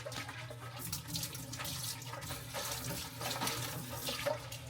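Running tap water splashes onto a non-stick pan as it is rinsed at a sink, a steady, close, continuous gush with shifting splatter and no talking.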